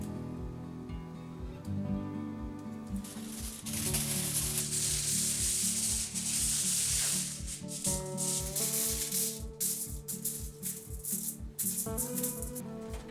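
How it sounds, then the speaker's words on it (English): Non-stick aluminium foil is handled for baking homemade doner kebab meat, crinkling and rustling in close bursts over a repeating rhythmic background beat. "I'll be baking it in this non-stick aluminium foil."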